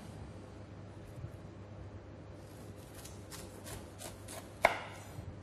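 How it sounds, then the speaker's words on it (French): A knife slicing the line of eyes off a peeled pineapple, soft cutting strokes and faint scrapes with one sharper knock near the end, close but quiet against a low background hum. "c'est tout simplement avec le couteau, retirer cette ligne là"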